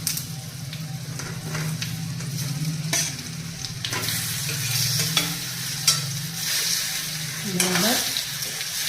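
Patra stirred in a pan with a sesame and asafoetida tempering: continuous loud sizzling and frying with scraping spoon strokes against the pan, close and without talk.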